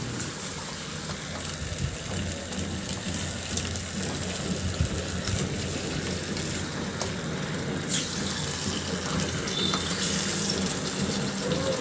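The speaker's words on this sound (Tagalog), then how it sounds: "Maglagay na ako ng tubig." Water gushes steadily into a pan of pork ribs cooking in soy, oyster and tomato sauce, a continuous close pouring and splashing wash with no talk.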